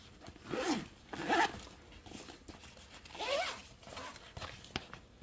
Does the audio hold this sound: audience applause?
no